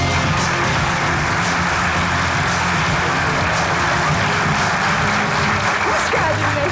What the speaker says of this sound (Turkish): Efendim bu haftaki stüdyo konuğumuz şanslı şanssız Mehtap'ı alkışlarınızla buraya davet ediyorum